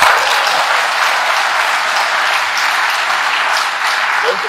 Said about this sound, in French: Vous allez applaudir ça.